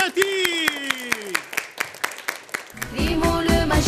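An audience claps in a steady rhythm for a storyteller at an Algerian children's show. The crisp, evenly spaced claps continue throughout, with a voice and tonal sounds running underneath.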